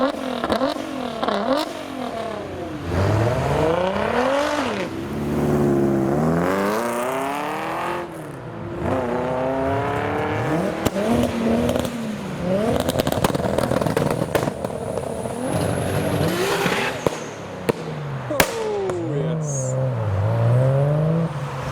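Modified cars pass one after another, led by a Nissan R35 GTR, with loud revving engines rising and falling in pitch and occasional crackles, a few voices faint underneath.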